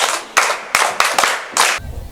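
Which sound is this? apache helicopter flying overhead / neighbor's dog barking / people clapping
people clapping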